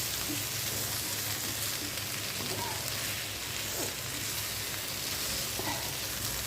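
Okra and potatoes frying in oil in a pan with chili and cumin, a steady dense sizzle throughout, close and even, with faint occasional stirring scrapes.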